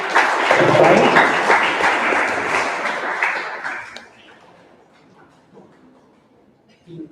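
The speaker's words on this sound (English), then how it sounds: "Let's give a big round of applause to Team Right." An audience at an all-India school debate competition breaks into loud applause that holds for several seconds, then tapers off into quiet room noise.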